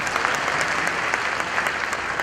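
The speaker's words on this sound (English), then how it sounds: "Please applaud him" An audience at a university congregation claps in steady, dense applause, a continuous loud patter of many hands with no gaps.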